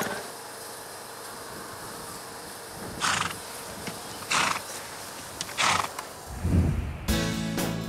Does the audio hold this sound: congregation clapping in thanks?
no